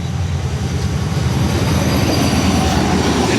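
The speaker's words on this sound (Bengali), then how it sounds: "দেখতে পাচ্ছেন এই যে ট্রেন আসতেছে, দেখেন কত দূরে ট্রেন যাচ্ছে" A train approaching Atrai station rumbles loud and steady, with wheel noise and faint squeal building throughout, no voices.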